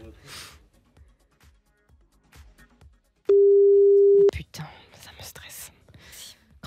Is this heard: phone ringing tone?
yes